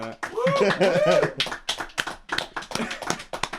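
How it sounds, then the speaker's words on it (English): A few crew members behind the scenes clap in a short, sparse burst of separate hand claps, heard alongside talking and a bit of laughter. "Can you all clap?"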